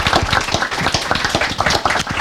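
Loud, dense applause from an audience at a creative talk event, many hands clapping rapidly and continuously from start to finish.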